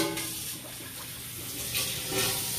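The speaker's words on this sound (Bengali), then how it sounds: "এই যে আমার হেল্পিং হ্যান্ড আমাকে হেল্প করছেন বড় পাতিল দুইটা ধুয়ে দিচ্ছেন" Water running from a tap while two large cooking pots are washed, a steady splashing rush with soft surges and clatters, close by and without talking.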